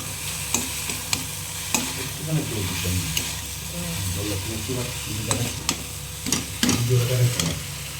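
Bamboo shoots stir-fry with green chillies in a pan, giving a steady hiss and sizzle broken by sharp, repeated clanks of a spatula against the pan. Faint murmuring is audible under the cooking.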